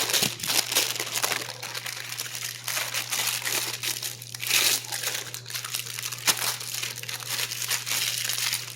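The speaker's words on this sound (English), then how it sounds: "I just take it, act like you're going to throw it away, crumple it up" Close, continuous crinkling and crumpling of a thin sheet being crumpled to fit a pan, with sharper crackles now and then, over a steady low hum.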